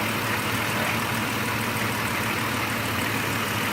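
2003 Dodge Grand Caravan engine idling after a fuel injector replacement, a steady, even hum with a dense noisy wash, constant and fairly close with no voices.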